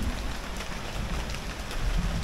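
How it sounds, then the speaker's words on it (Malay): Steady rain falls outside a house, a continuous broadband hiss of drops on surfaces heard from indoors, moderately loud and even throughout with no voices. "Walaupun dalam keadaan cuaca yang hujan"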